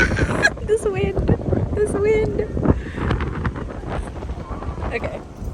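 Strong wind buffets a microphone outdoors in Singapore, producing loud, rumbling gusts and flutter while a person talks over it.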